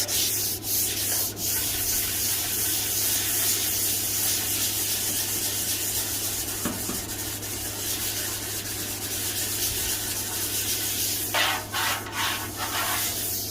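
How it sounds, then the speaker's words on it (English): Continuous close hand sanding on a Farmall Super A tractor's gas tank, a steady loud abrasive rasp over a low hum, with brief shifts in stroke around the middle and end. "There's no reason why you can't hand sand it."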